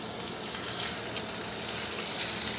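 Beef steak fries in olive oil in a pan, giving a loud, dense, continuous sizzle with faint crackles and no talking.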